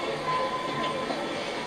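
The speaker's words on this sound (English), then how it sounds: "Sounds like a Subway." A subway train's rumbling roll within a song, a continuous mid-level clatter and whoosh with a thin tonal whine over it.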